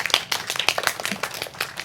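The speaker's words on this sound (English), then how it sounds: "Please clap your hands." An audience claps at a live talk event, a brisk scatter of hand claps from several people at close to medium distance, irregular and fairly loud, with no talking over it.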